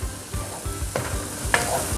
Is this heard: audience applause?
no